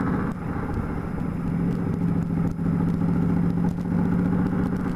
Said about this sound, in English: That was the short bus, if you notice.